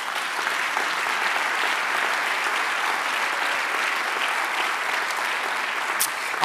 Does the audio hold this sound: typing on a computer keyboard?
no